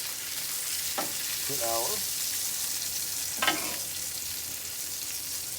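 Smash burger patties for breakfast sandwiches sizzle loudly on a hot griddle as they are flipped, a constant close frying hiss with brief louder bursts, while someone speaks briefly over it.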